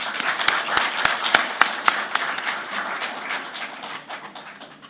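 At a youth investment forum, an audience gives a round of applause, starting with several sharp distinct claps that blend into a thinning scatter of hands fading over about five seconds.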